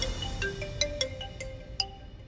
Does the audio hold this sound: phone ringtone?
yes